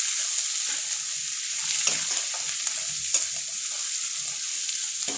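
Onions frying in a pan for upma, a steady close sizzle with occasional scraping stirs of a spoon, no talk over it.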